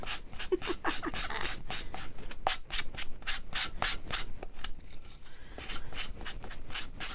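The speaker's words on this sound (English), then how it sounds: "Okay, I picked the wrong sanding block." A sanding block rubs back and forth over a pencil holder in quick rhythmic strokes, close and scratchy, with a short pause midway before the strokes resume.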